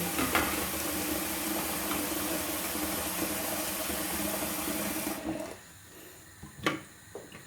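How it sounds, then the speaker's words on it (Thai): Cold tap water runs steadily into a sink in a home kitchen while shrimp and water mimosa salad is being made, a continuous close broadband splash that cuts off abruptly after about five seconds, leaving a few faint clinks. "เดี๋ยวเปิดน้ำเย็นก่อน"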